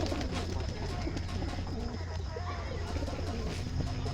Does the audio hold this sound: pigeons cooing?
yes